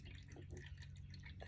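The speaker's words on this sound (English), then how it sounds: "now I'm gonna go ahead and add the water to the canister" Water poured into the canister of a self-watering orchid pot while repotting a dendrobium, a steady, soft trickle that runs continuously and close by, with no talk over it.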